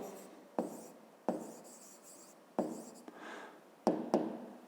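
Pen strokes on paper while working out a school maths exercise, a series of short scratchy bursts with brief pauses between them, close and fairly quiet, no talking.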